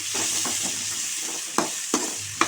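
Vegetables sautéing in a pan with a pinch of powdered salt for eral kuzhambu, a steady sizzle with soft stirring scrapes and three sharper clacks of a spoon near the end, no voices.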